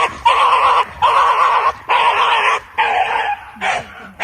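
A dog gives a run of strange, drawn-out yelping bow-wow calls in five or six separate bursts with short gaps between them. The calls are loud and close, with no talk over them.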